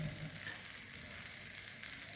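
A moong and rice dhirde pancake roasting on a hot pan gives a soft, steady, even sizzle, quiet and close, with no talk.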